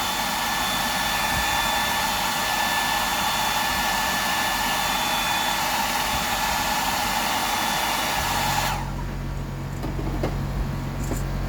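A hair dryer blows steadily and loudly at close range while drying a fishing fly tied as a prawn imitation, then cuts off near the end, leaving a quieter low hum.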